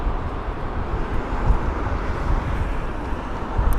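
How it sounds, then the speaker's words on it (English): An airliner landing at London Heathrow in gusty wind, heard as a continuous broad low roar of engines mixed with wind buffeting on the microphone, steady and fairly loud with no voices. "That's a good landing."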